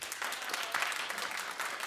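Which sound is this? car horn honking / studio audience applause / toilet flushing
studio audience applause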